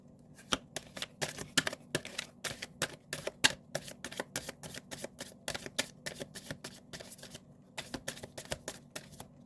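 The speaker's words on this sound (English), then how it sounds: "Another shuffle." Tarot cards are shuffled repeatedly in quick riffling bursts, crisp and close, with brief pauses between runs and no talking.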